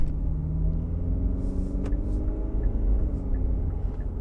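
A Hyundai Palisade 2.2 diesel SUV pulling away, with a steady, loud, low engine rumble heard from inside the cabin and faint clicks over the drone.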